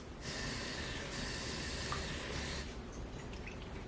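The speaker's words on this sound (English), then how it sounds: "I'm going to fill this up with 2 of these little cups of water" Water poured from a small cup into the reservoir of an egg boiler, a steady broadband splashing stream lasting a few seconds, close and fairly loud, fading slightly toward the end.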